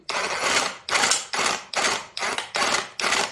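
A Parkside PKHAP 20-Li D4 cordless hammer drill runs in hammer-only mode in seven loud, close bursts of rapid hammering, each roughly half a second long and separated by short pauses.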